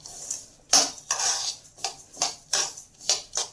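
A spoon scrapes and knocks inside a kadhai while a sesame, peanut and jaggery mixture is stirred, giving a string of sharp metallic clinks and scrapes in an uneven rhythm, close and clear with no voices.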